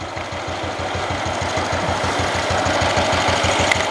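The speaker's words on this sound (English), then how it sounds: "the important thing is the engine's running lovely" An engine with a weak spark runs steadily at idle, a fast regular low chugging that continues evenly throughout.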